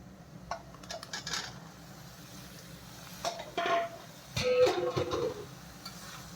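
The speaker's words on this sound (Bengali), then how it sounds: "সবজিটা দিয়ে এখন একটু ভালো করে নাড়াচাড়া করি" Vegetables are stirred into a pan of spiced oil for a homemade vegetable curry, with intermittent scrapes and clinks of a spoon against the pan over a quiet background hum, louder bursts of stirring coming near the end.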